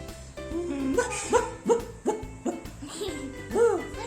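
A father mimics a dog's bark with a series of short voiced woofs, roughly evenly spaced, close up, with a brief childlike giggle near the end.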